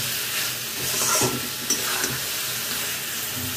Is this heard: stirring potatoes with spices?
yes